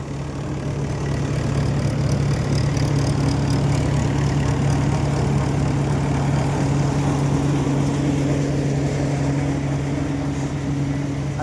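A Shree Ghanshyam groundnut thresher, driven by a tractor, runs steadily on green groundnut with a loud, continuous mechanical drone and a deep engine hum that holds without pause throughout.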